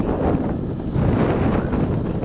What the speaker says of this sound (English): it's pretty windy around here, this part of the world.